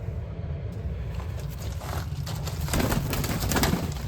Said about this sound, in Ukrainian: Так що це дві пари голубів